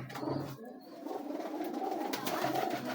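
A large-sized pigeon gives soft, low cooing close by against a faint background murmur.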